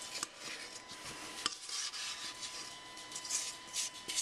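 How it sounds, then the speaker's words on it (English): A spatula scrapes and wipes chocolate chess pie mixture around the inside of a mixing bowl, giving a steady soft rasping rub with a few sharper scrapes, close and fairly quiet with no talking. "You need to wipe down your bowl with your spatula"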